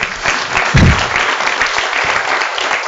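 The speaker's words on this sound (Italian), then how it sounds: "voglio farti un bel applauso, guarda" Audience applause at a literary prize award ceremony in Olbia, loud and continuous clapping from a full room, with one brief low thump near the start.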